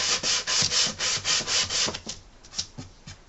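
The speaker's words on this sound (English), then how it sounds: "the grain on this piece right here is going this way, so I want to sand back and forth." Sandpaper strokes back and forth along the grain of a wood surface, loud and close, in steady regular passes that turn lighter and more uneven toward the end.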